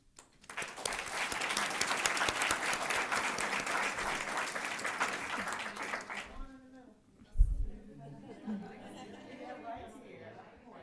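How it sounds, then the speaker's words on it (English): A school board meeting audience gives a dense round of applause lasting about six seconds, then it stops abruptly, leaving murmured talk and a brief thump. "if you'll please stand for a round of applause as well."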